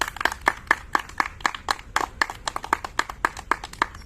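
A few people clap briskly and steadily for a prize winner at a village Lagori game, the sharp hand claps close and fairly rhythmic, with no voices over them.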